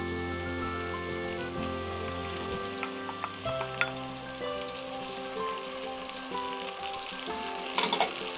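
Tomatoes go into a pot of sizzling onions for a Kenyan meat stew, a steady close frying crackle with a few brief louder spatters and clinks near the end.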